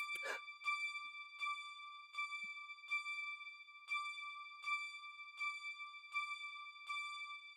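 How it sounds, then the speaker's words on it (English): An offbeat synthesizer part from a cover of a song: a bright tone pulses in a steady, slightly off-kilter repeating pattern, clean and alone, with a brief noisy burst at the very start. "an offbeat synth. So it plays like every third or every sixth or something like that"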